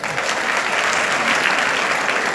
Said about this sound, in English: You clap for yourself now